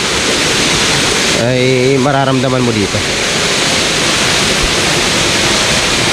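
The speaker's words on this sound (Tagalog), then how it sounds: "wala kang maririnig kundi lagaslas ng tubig" Waterfall at a campsite in Tanay, Rizal, with steady loud rushing water filling the scene while someone speaks briefly over it.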